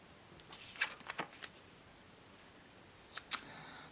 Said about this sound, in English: let's flip the cards and see what we got